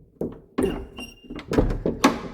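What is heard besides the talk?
big heavy church door closing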